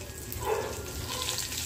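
Green chillies sizzle and fry in hot oil with cumin and a pinch of asafoetida in a kadai, giving a steady, soft crackling hiss close by with no talking.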